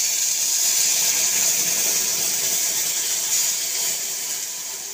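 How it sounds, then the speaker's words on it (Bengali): Liquid milk poured into semolina frying in a pan sets off a loud, steady hissing sizzle that slowly fades toward the end. "সুজিটা একটু লাল লাল হয়ে গেলে আমরা এর মধ্যে দিয়ে দেবো লিকুইড দুধ"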